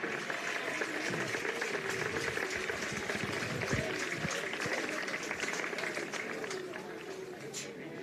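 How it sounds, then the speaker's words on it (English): Crowd applause and cheering fill the stands at a high school football game between Cherokee and Greeneville, a steady dense roar throughout with a voice talking over it. "Listen to the crowd to give a nice round of applause."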